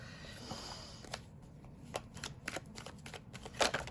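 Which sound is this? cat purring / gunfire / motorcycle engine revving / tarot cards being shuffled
tarot cards being shuffled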